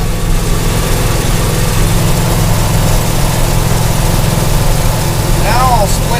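A 1973 International truck engine pulls uphill in low range, giving a loud, close, steady low-pitched drone that holds an even laboring rumble throughout.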